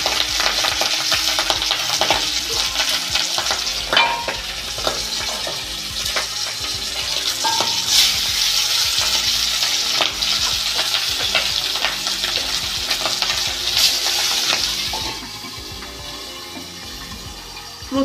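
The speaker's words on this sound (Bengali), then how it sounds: "আগেই তেলটা বসিয়ে দিয়েছিলাম গরম করতে, আর তেলটা গরম হয়ে গেছে। এবার আমি মাছগুলো ছাড়বো।" Pabda fish frying in hot oil, a loud, steady crackling sizzle with spitting pops that runs throughout and eases slightly near the end.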